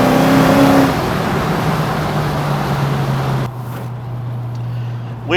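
A 1970 Chevrolet Chevelle SS with a 650 hp supercharged LT4 and six-speed manual roars loudly as it accelerates, pitch climbing then dropping as it shifts gears, with steady road noise underneath.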